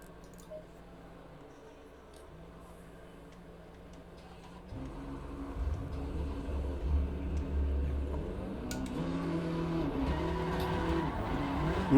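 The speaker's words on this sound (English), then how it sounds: "that Porsche sounds good" A Porsche race car engine in Assetto Corsa Competizione drones steadily, then surges louder as it accelerates, with tire squeal and shifting pitch carrying through the rest of the run.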